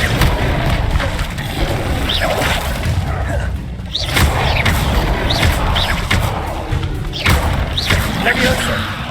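Expelliarmus spells are cast in Hogwarts Legacy, with repeated thudding impacts and whooshing bursts at a few-second intervals over a busy game soundscape, under heavy voices throughout.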